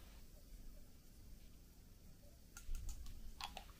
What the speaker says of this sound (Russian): Оно вот тут щелчком открывается.